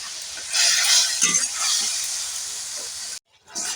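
Spices with ginger paste frying in a pan for a dried-fish dish, a steady loud sizzle with stirring scrapes throughout, cutting off briefly near the end before resuming.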